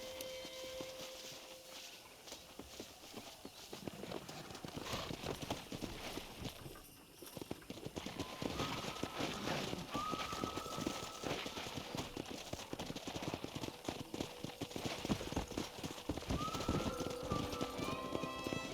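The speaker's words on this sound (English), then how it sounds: "there's a pack of wild horses nearby" Wild horses clip-clop over open ground in the Red Dead Redemption game world, hoofbeats steady and mid-distance under continuous ambient sound, with a faint whinny or bird call rising briefly later on.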